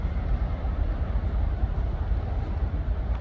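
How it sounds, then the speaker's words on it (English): A Network Rail worker train rumbles through Stockport station, a steady, loud low-pitched roar of wheels and engine that holds evenly without pause. "Network Rail worker train."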